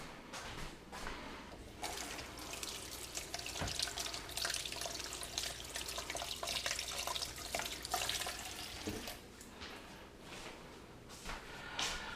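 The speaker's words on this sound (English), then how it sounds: "Let me rinse my hands off again." Running water from a kitchen tap streams steadily as hands are rinsed at the sink, a continuous close splashing hiss with small shifts in flow lasting throughout.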